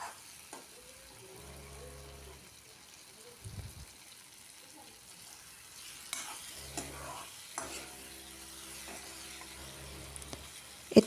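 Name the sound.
boiled potatoes frying with spices in a pan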